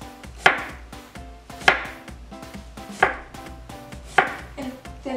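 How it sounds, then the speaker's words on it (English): Knife slicing shallots thinly on a cutting board, four sharp, evenly spaced chops about a second apart, each with a short crisp crunch and a faint ringing decay, close and alone. "I'm going to slice up my shallots"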